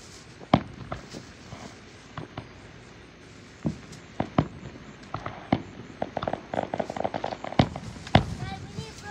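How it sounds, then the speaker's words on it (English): Sharp scattered fireworks pops and crackles at an outdoor display, some loud bangs and many fainter snaps at irregular intervals, with people talking nearby. "Carson, Daddy said we can watch the fireworks until we are done."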